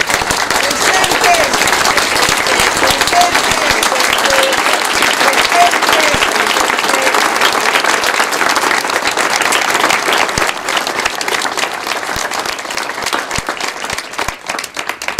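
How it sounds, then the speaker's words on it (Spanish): Loud, sustained applause from a crowd at an outdoor Day of Remembrance memorial ceremony in La Cumbre, steady clapping that fills the whole stretch and thins slightly near the end. "Y pido para ellos un fuerte aplauso"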